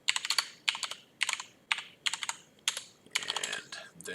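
Computer keyboard being typed on while entering terminal commands: quick clusters of crisp key clicks in short bursts with brief pauses, close and fairly quiet, with the final keystrokes running together.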